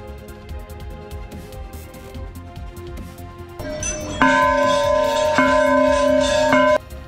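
Metal bells at the Golu Devta temple in Ghorakhal ring out with a sustained, shimmering tone, struck again a few times and overlapping, over a steady background of faint tinkling and crowd murmur.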